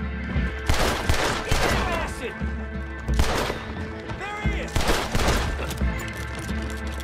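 Revolver fire in Red Dead Redemption 2 cracks out in several bursts of sharp, loud shots with ringing echoes, spread unevenly across a busy game-world background.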